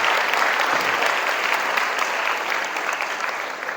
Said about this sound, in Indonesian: Tepuk tangan dong buat kakak kita yang sudah tampil.